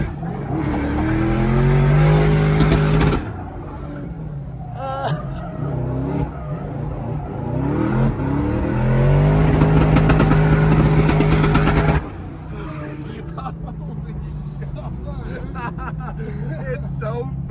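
Adam LZ's car accelerates hard around a tight course on 305 tires, engine revving loud and close with rising tones and tire squeal, easing briefly between pulls, while people talk over it.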